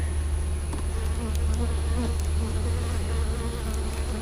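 Honey bees swarm around an open hive during a honey super inspection, a dense steady drone of many wings filling the scene at close range with no voices.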